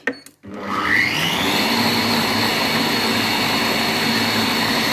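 A Compact Cook Pro multicooker blends at speed 9, starting with a short click and then a loud, steady motor whine. The whine holds unbroken for several seconds with no voices.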